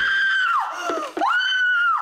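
A loud, sustained high-pitched human scream that dips and breaks briefly in the middle, then returns to a long piercing held note, heard alone.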